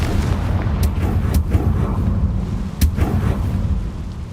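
A Confringo exploding spell in Hogwarts Legacy bursts in a rumbling, booming blast, with several crackling impacts spaced across a deep, continuous roar.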